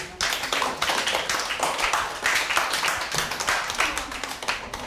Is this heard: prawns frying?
no